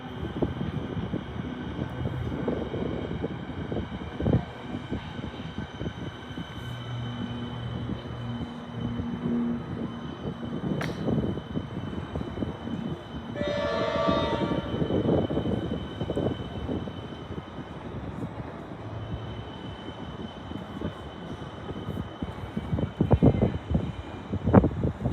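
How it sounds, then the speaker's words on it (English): V/Line Velocity train passing over a flyover near North Melbourne Station, a steady low rumble and rolling rattle at moderate distance, with a brief tonal squeal midway and heavier clunks toward the end. "there's another Velocity coming over the flyover"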